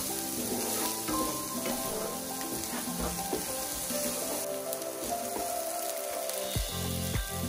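Grated ginger, hot chili and bay leaf frying in a pan for a beef tripe stew in oyster sauce, with a loud continuous sizzle and crackle throughout.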